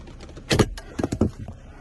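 A BMW computer module is pried out of its housing during a locksmith job: a few close, sharp plastic clicks and clunks arrive in separate bursts against a quiet background, with no talking.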